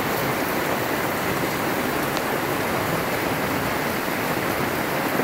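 A sudden summer downpour during a storm over Peterborough, heavy rain roaring in a steady, unbroken wash of noise, loud and close, with no voices.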